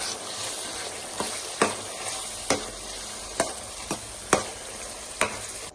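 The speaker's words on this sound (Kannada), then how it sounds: "ತಿರುಗಿಸ್ಕೊಳ್ಳಿ, ಚೆನ್ನಾಗಿ ತಿರುಗಿಸ್ಕೊಳ್ಳಿ" Ground masala for a brinjal (badanekayi) curry fries in a pan with a steady broadband sizzle, broken by about eight sharp scraping knocks of a spoon stirring at a loose, uneven pace, close and alone without talk.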